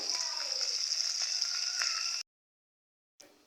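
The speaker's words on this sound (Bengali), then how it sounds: "এখানে আমি ভাজার জন্য দিয়ে দিয়েছি জাটিকা মাছ" Jatka fish, young hilsa, frying lightly in oil, giving a steady close crackling sizzle for about two seconds before a sudden cut to silence and a brief return of sound.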